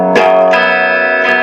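Electric guitar playing a strumming pattern slowly, with three distinct strums, each ringing out with effect-laden sustain, close and alone.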